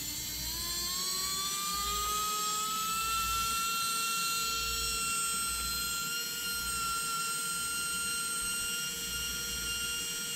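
A Tamiya Super Stock BZ motor, fitted with ball bearings, spins at 8 volts, giving a loud continuous high-pitched whine that rises slightly at the start and then holds steady for the full ten seconds.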